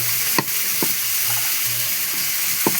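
Mustard fish frying in a pan, a steady bright sizzle throughout with a few soft utensil clicks as the fish is turned.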